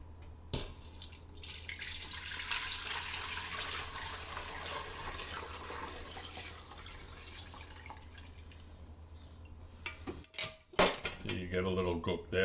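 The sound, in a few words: liquid stock poured through a fine strainer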